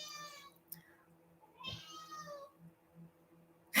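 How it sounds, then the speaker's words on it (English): A cat indoors in a kitchen meows twice, two drawn-out calls close by, over a faint steady hum with a soft click and a bump. "I'm trying to get the cat."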